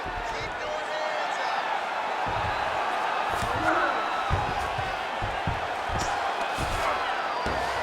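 A UFC arena crowd roars in a steady, broad wash of cheering during a fight between Alexandre Pantoja and Kai Kara-France, with scattered thuds and shouts, underneath a commentator talking.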